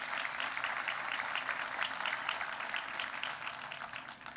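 An audience claps through a mayor's State of the City address, a dense, continuous round of applause from many hands in a hall that fades slightly toward the end.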